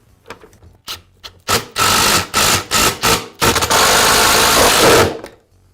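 A plastic guard is refitted onto an Echo leaf blower during an ignition coil replacement: close, loud scraping and rubbing bursts with a few sharp knocks, ending in one sustained grinding rub.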